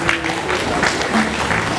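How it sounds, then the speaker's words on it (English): Audience applause at an academic conference at the University of Uyo, a steady dense wash of clapping from a large hall crowd, with faint voices mixed in underneath. "So I think we all deserve an applause for a job well done."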